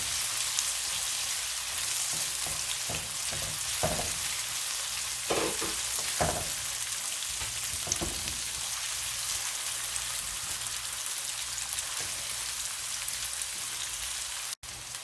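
Onions frying in hot oil for coconut rice, a steady broadband sizzle with occasional spatters and stirring clicks, close and continuous with no talk, ending in a sharp knock.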